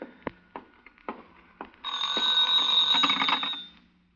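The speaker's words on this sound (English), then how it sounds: "That's the phone." An old telephone rings in a vintage radio crime drama, one sustained electric bell ring of over a second after a few sharp knocks and taps, fairly faint and with no talk over it.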